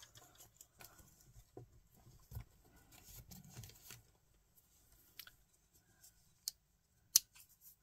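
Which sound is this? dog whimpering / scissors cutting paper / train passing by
scissors cutting paper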